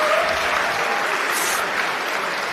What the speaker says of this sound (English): Round of applause for the contestants.